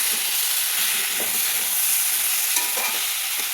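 Jute leaves seasoned with turmeric and salt frying in a pan, a dense continuous hiss and sizzle close up with faint stirring, no talk.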